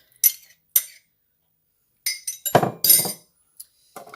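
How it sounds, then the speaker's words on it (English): A spoon knocking and scraping spirulina from a container, several bright metallic clinks and short scraping bursts separated by silence, close and without talk. "I'm grabbing my spoon to get everything out."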